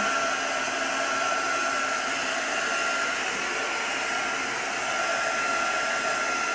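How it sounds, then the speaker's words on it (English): Steady, close whooshing roar of a heat gun blowing hot air to dry patina paste on a mirror, continuous and even at moderate loudness throughout with no talking. "I'm just drying it with a heat gun."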